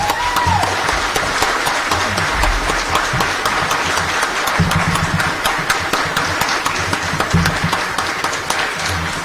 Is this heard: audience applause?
yes